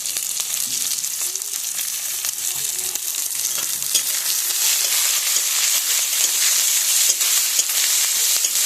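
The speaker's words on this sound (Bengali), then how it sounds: "একটু লাল লাল করে ভেজে নেব।" Chopped onion and green chili frying in hot oil for a small-fish curry with sour leaves, a steady close sizzle with occasional stirring scrapes throughout.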